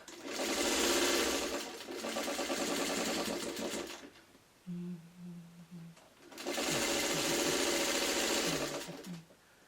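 A sewing machine stitches an Arrowhead quilt block, two loud close bursts of rapid, steady needle whirring separated by a pause with short low hums and a brief voice.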